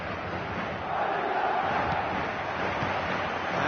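A stadium crowd in a PS4 football video game roars before kickoff, a steady, dense wall of cheering and chanting that swells slightly and carries on without a break.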